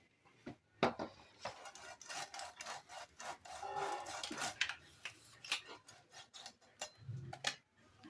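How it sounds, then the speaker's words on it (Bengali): Hilsa fish being scaled by hand after soaking, a dry scraping and rasping sound in quick repeated strokes, close and fairly quiet, with no talking. "দেখুন কিভাবে মাছের আঁশ ছাড়ানো হচ্ছে দেখুন।"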